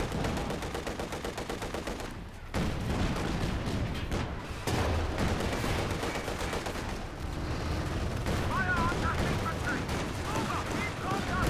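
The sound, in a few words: M42 AT guns firing, from Company of Heroes 2 video game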